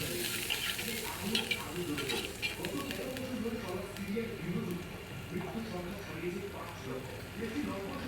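Onions frying in a pan for egg khichuri get a splash of water, sizzling steadily while a utensil stirs and scrapes through them in an irregular rhythm, close and moderately loud, with some speech mixed in.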